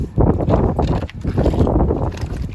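Cold autumn wind blows outdoors and buffets the microphone with a steady, loud low rumble that surges and dips for a few seconds. No one speaks.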